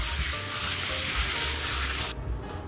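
A meat grinder knife blade rubs steadily on a fine 240 grit sharpening surface, giving a continuous gritty hiss up close that stops abruptly near the end.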